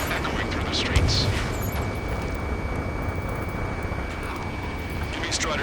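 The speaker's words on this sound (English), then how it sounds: "Gunfire and the roar of jets echoing through the streets." Jet aircraft roar over a city under martial law in the video game Ace Combat 7, a dense, steady loud rumble throughout with a sustained whine, brief swells near the start and end, and no clear talk.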